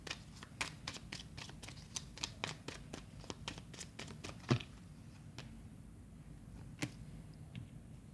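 Tarot cards being shuffled and drawn: a quiet run of rapid crisp card flicks that thins out into a few separate snaps as cards are pulled.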